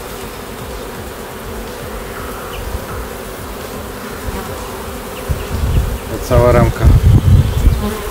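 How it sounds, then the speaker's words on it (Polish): Agitated Buckfast honeybees swarm in a dense, steady buzz at an open hive during a frame inspection, growing louder and closer near the end as someone speaks briefly. "Pszczoły są strasznie pobudzone."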